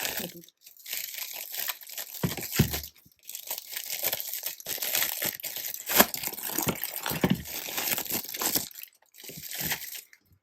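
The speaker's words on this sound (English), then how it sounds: "Just grab some bags, plastic bags." Plastic bags are handled while a wholesale soap order is packed, producing close, bursty crinkling and rustling with brief pauses between handfuls.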